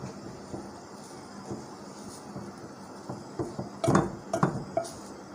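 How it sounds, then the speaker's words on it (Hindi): A spoon scrapes and clinks against a pan while besan halwa is stirred with milk, faint at first and then a cluster of sharper metallic knocks near the end, with no voices. "ये देखें, अब इसको आप चलाते रहो।"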